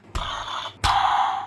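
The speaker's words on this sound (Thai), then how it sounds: "อันนี้เป็นเสียงเหมือนชักปืน" Two quick mechanical sliding clicks, each followed by a bright whirring ring, like a toy gun being drawn twice, from a DX Tega June toy figure.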